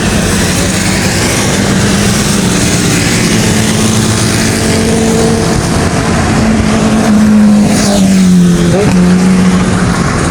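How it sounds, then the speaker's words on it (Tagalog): Continuous loud motorcycle engine roar from passing bikes during a motorcycle challenge, steady and close, with a rising and falling whine near the end as one revs past. "Sobrang lakas ng mga motor na kasabayan natin."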